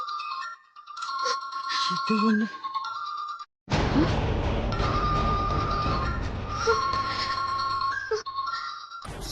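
A phone rings with a repeating electronic melody over background music and noise, fairly loud, cutting off briefly before continuing.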